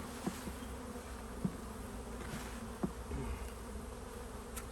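Honey bees buzz steadily around an open hive while brood frames are swapped out for honey production, a low continuous hum with a few soft clicks and knocks from handling the frames.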